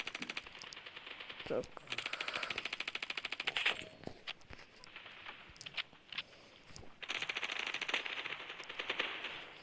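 Bursts of rapid automatic gunfire in the video game Standoff 2 repeat in rhythmic volleys, separated by brief pauses with scattered single shots, fairly close and sharp.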